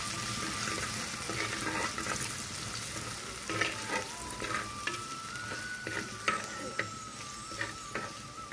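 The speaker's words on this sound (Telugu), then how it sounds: "4 పచ్చిమిరపకాయలు కూడా వేసుకున్నాం. అల్లం చిన్నులపాయ పేస్ట్ కొంచెం వేసుకున్నాం" Green chilies and ginger-garlic paste fry in hot oil, a steady sizzle with repeated scraping and stirring clatters of a spoon against the pan, close and moderately loud; a faint whistle-like tone drifts underneath.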